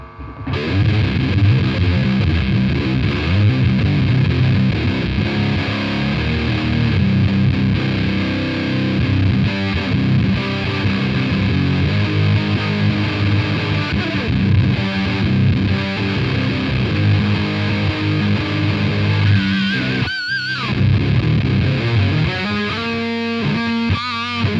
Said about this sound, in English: What's it like if you have the distortion up and the filter all the way up?